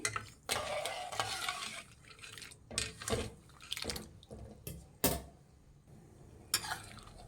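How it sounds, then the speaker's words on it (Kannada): A spoon stirs sugar into cooked pasta in a pot for pasta kheer, giving scraping and clinking strokes against the metal at an irregular rhythm, close and moderately loud with no talk. "ಸಕ್ಕರೆ ಹಾಕಿ ಮಿಕ್ಸ್ ಮಾಡಿ"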